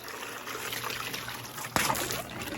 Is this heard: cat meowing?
no